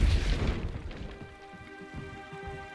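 A Depulso spell goes off in Hogwarts Legacy as a single deep magical boom that rumbles and fades over a steady musical drone.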